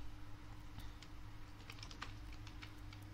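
Light, quick typing on a computer keyboard, soft irregular key clicks over a low steady hum, fairly faint and close, no speech.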